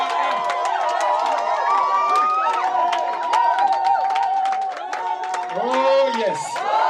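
A church congregation cheers and acclaims the Lord with loud overlapping shouts, whoops and clapping, a dense, lively crowd sound that continues throughout.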